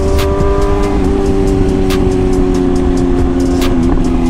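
A BMW S1000RR sport motorcycle engine revs loudly and close by, holding a strong steady droning note with a brief dip and rise near the end.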